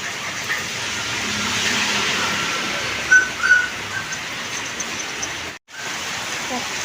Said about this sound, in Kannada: ಸಖತ್ ಮಳೆ